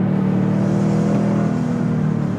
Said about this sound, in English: That turbo spool.